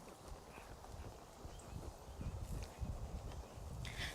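A horse's hooves clop in a quick, even trotting rhythm on soft ground, fairly faint, with a few light rustles around them.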